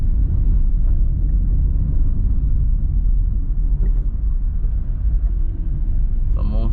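Heavy road traffic on Red Hills Road, seen from a passing car, gives a loud, continuous low rumble of vehicles that stays steady from start to finish.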